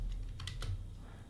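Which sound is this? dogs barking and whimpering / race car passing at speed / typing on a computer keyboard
typing on a computer keyboard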